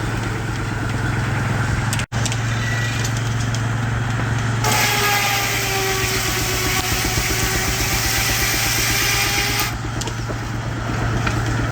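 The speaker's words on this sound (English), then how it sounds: "Today on the mill we got the Baker 2390 heavy duty Uniflow." A Baker 2390 heavy duty Uniflow steam engine runs at a sawmill, a steady loud drone with a strong low hum, a brief cutout near two seconds and a brighter whining stretch in the middle.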